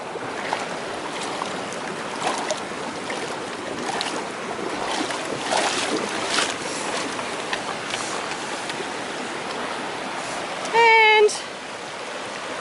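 Bear Creek rushes steadily during a hiking crossing on the Pacific Crest Trail, a continuous broad wash of flowing water near the listener, with a brief whistle-like tone near the end.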